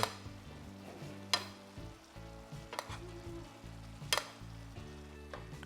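Lobster simmers in a Cajun butter sauce in a pan, a soft steady sizzle and bubble with occasional sharp clinks and scrapes of a utensil stirring and basting, heard close and fairly quiet.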